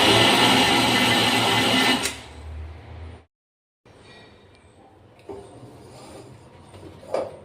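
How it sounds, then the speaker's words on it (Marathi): Spice masala for stuffed vegetables ground in a kitchen mixer, a loud close whirring burst that cuts off, followed by quieter shaking and clattering of the jar with brief knocks. "आता आपण हा मसाला वाटून घेणार आहे"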